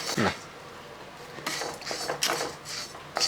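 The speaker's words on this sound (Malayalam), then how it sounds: "ഇപ്പം നല്ല ചൂടല്ലേ നമുക്ക് ഇത് ഇതുപോലെ പാത്രത്തിലോട്ട് മാറ്റുകയാണ്" Hot roasted rice, lentils and chilli powder, mixed with coriander and asafoetida powder for chutney powder, get moved into a vessel with clinks and scrapes of metal utensils and pans, in short bursts beside a speaking voice.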